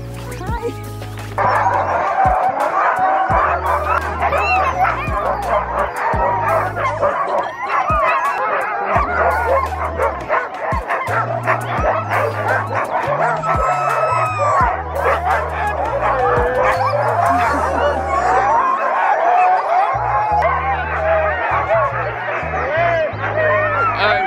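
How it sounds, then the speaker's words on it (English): Huskies bark, yip and whimper loudly and continuously, a crowded chorus of excited dogs close by, with a person's voice mixed in among them. "let's go meet the dogs"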